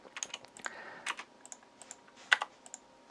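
Quick typing on a computer keyboard, irregular clusters of crisp key clicks with one louder keystroke near the end, close and quiet with no talk.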